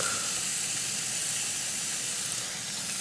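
Burger ingredients sizzling in a hot pan, a steady even hiss of frying throughout, close and constant with no talking.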